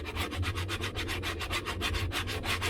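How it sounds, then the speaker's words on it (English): Steady back-and-forth scratching of sandpaper rubbing a hand-carved wooden spork, a close, continuous rhythmic rasp with no talking. "When we finish with this sandpaper, we'll go to the really light grade stuff"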